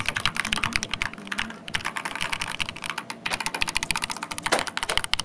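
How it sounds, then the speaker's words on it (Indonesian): Rapid, steady typing on an Akko 3098 mechanical keyboard, a dense run of close, crisp keystroke clicks heard alone throughout with only brief pauses. "Kalau lu mau dengerin suaranya, nanti ada ASMR suaranya."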